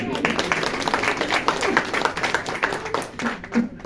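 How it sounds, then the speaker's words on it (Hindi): A small gathering at a spiritual talk claps for a quick-witted answer, uneven scattered hand claps of moderate loudness with voices murmuring underneath. "ताली तो बजाओ।"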